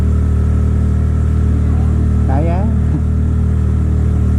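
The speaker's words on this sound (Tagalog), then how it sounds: "Inayon naman ng motor natin na akyatin yung palusong na kalsada pero may part lang talaga na sobrang tarik" A Honda Click 125cc scooter strains up a very steep road, its engine droning loud and steady close by, with a brief rising whine partway through.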